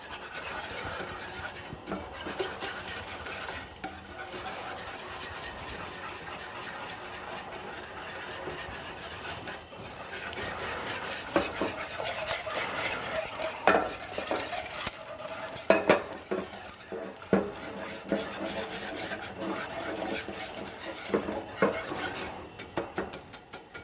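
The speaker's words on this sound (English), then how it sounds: "So you're gonna whisk in all those ingredients just like that." A whisk scrapes and stirs Chimayo red chile BBQ sauce ingredients in a pot, a continuous busy clatter with a faint simmering sizzle, moderately quiet and close.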